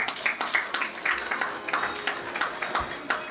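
An audience at a 2014 Pan Pacific climate change adaptation conference applauds to welcome a speaker, with moderate, slightly uneven clapping from a modest crowd, sustained and fairly close.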